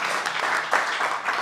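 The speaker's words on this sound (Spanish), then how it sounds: "le damos un aplauso a Iván" Short burst of audience applause at a book presentation, a steady soft patter of many hands clapping at moderate distance, with no talk.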